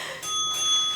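A workout interval timer bell during a bodyweight Tabata HIIT cardio session rings out as a bright, sustained tone that starts after a short pause and holds steadily to the end, with no talking.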